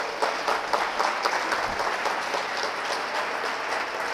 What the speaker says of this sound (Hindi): तो तालियां बजना चाहिए भाई।